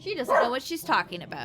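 A dog barks in a home setting, a few short yips and bow-wows mixed in with someone talking close by, the barks brief and fairly quiet under the voice.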